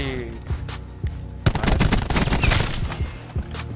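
Bursts of gunfire from a shooter video game: scattered shots early, then a dense rapid volley for about two seconds, loud and close, tapering to a few more shots.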